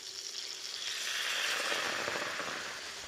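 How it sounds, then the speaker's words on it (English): White wine hitting a hot pan of Sicilian polpette meatballs to deglaze it, a loud rushing sizzle that swells and then slowly eases over a few seconds, with no talking. "we're just going to deglaze the pan with a little bit of white wine"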